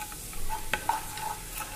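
Chole masala with hing, red chilli and byadgi chilli powder stirred in a pan over low heat, a quiet sizzle broken by a few soft scrapes and taps of the spoon.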